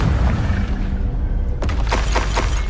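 A Confringo blasting spell goes off in Hogwarts Legacy on PS5, a loud bursting boom with crackling shatter-like impacts layered over constant game ambience and music.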